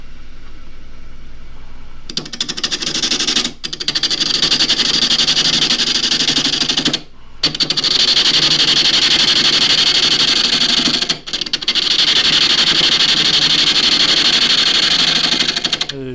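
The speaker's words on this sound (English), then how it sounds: "spindle gouge," A half-inch spindle gouge cuts bone-dry jarrah burl on a wood lathe, giving a steady, loud scraping hiss that runs continuously with two brief pauses, close by and without talk.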